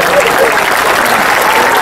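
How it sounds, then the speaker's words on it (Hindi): An audience at a Hindi comic poetry gathering breaks into loud, dense applause that holds steady for the whole moment, close and continuous. "एक बार तालियां बजा दे"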